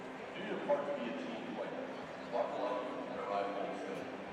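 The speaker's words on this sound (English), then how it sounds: "That dog does not want to be petted." A dog yips and barks a few times in a radio advertisement aired during a men's college basketball broadcast, sharp short bursts spaced apart under continuous talking.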